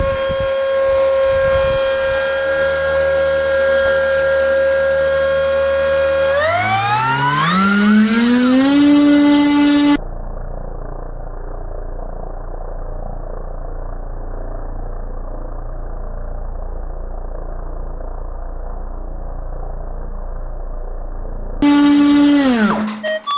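The electric motor of an FMS ASW-17 RC glider whines steadily at first, then spins up with a rising pitch, gives way to a low, muffled hum, and returns to a loud whine at the end, with no talking.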